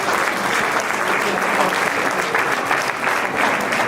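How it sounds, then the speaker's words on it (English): A dinner audience at a 2018 Lincoln Reagan political event applauds, a steady, loud wash of many hands clapping that holds evenly for several seconds. "If we could give another round of applause."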